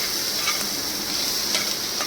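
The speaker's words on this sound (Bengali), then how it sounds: "এটা এবার মিশিয়ে দিয়ে" Egg bhujia seasoned with chow mein masala fries in a pan while being mixed, a steady close sizzle with a few soft stirring taps and no voice.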